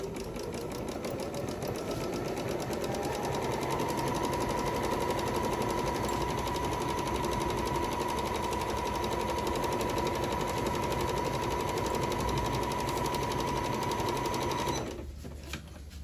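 A Janome Memory Craft 9500 sewing and embroidery machine runs steadily for about fifteen seconds, its fast, even needle rhythm close and continuous, before it stops abruptly near the end.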